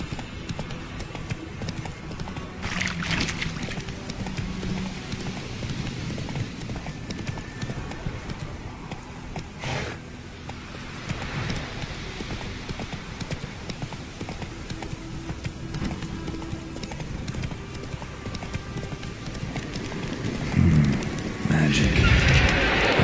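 A horse's hooves trot in the video game The Witcher 3, a steady, rhythmic clip-clop held throughout against outdoor game ambience, swelling louder near the end.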